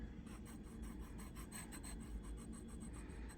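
A knife edge rounded off on a lapping strip dressed with lapping compound gives a steady, close rasping rub that runs without a break and holds an even level.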